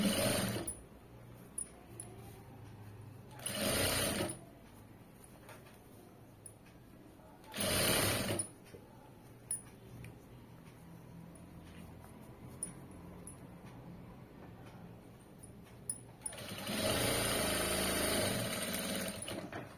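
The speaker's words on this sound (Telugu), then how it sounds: "మళ్ళీ ఇంకొక స్టిచ్ వేయండి, 2 వేయాలండి. 2 వేస్తేనే స్ట్రాంగ్గా ఉంటుంది." A home sewing machine stitching cloth, with short loud bursts of fast running stitches separated by quieter pauses full of small clicks and handling noise, and a longer burst near the end.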